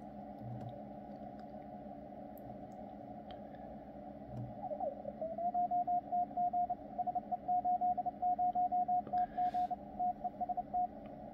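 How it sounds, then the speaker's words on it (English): A faint Morse code CW signal sounds on a Yaesu FTDX101MP radio: a steady stream of rapid keyed tone pulses starts partway through and repeats over a low hiss of band noise. "So let's find the CW signal."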